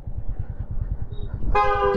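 Rhythmic chugging of a toy train rolls along at a station in Coonoor, then a bright, harmonic horn blares for the last half second, loud and close.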